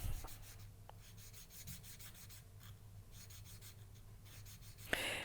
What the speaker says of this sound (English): Now I'm going to start sanding around the outer edge.